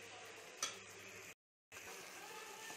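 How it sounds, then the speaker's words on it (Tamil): Bitter gourd frying in plenty of oil, a soft steady sizzle with a single utensil clink early on, broken by a brief cut to silence before the faint sizzling resumes. "அந்த எண்ணெய் பிரிஞ்சு வர வரைக்கும் நல்லா ஃப்ரை பண்ணிக்கோங்க."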